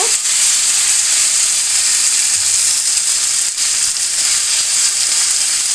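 Ginger, garlic and cumin fry in a hot pan for a shrimp and taro stolon dish, giving a loud, steady, close sizzle and hiss with no break and no talking.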